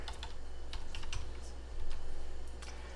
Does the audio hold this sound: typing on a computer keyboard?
yes